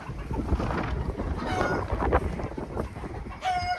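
A rooster on a farm with hens, lambs and guardian dogs crows and clucks amid a busy outdoor backdrop, its call rising briefly over the noise near the end.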